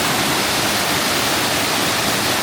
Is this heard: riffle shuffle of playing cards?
no